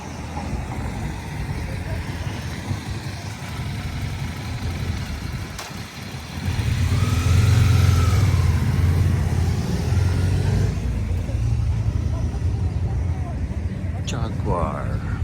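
A Jaguar car engine idles and then swells into a louder rev midway before settling, close by on a busy street crowded with people, with voices talking throughout.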